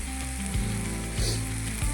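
Steady loud sizzling of taro stems frying in oil, close by, with a low persistent hum underneath and occasional soft stirring.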